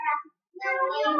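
A child imitates a cat's meow with two short, close, voiced mews separated by a brief pause.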